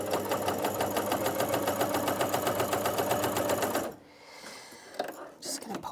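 A Janome CoverPro 3000 coverstitch machine runs fast through thick fabric with a loud, rapid, even mechanical chatter, then stops abruptly, leaving a quieter stretch of small clicks and handling noises.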